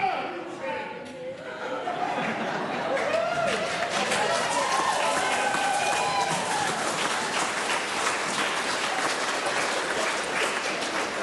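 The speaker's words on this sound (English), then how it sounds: "I just want to say to the whole gallery who's applauding" The public gallery in New Zealand's Parliament breaks into sustained applause and crowd noise during a debate on the founding treaty law, a steady wash of clapping with voices and some laughter mixed in.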